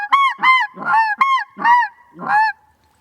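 A high-pitched snow goose honk imitated on a waterfowl call, with six loud, close, evenly spaced honks over about two and a half seconds and no voices in between.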